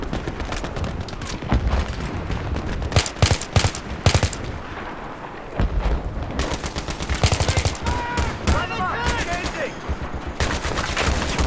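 Dense gunfire from the Battlefield 3 video game, rapid automatic bursts and sharp single shots overlapping in a loud continuous barrage, with voices faintly mixed in under the shooting.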